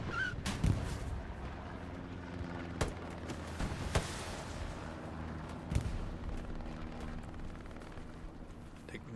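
Gunfire in a Hell Let Loose match on Mortain: scattered near and distant rifle shots and booming artillery reports over a constant rumbling battlefield din.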